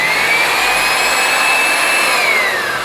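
Electric wall sanding machine running steadily, a loud continuous motor whir with a high whine that holds level and drops slightly near the end, no voices.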